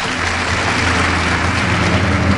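Sustained applause fills a hall as an award is presented to a foreign minister at a university ceremony, steady, dense and loud with no break for its whole length.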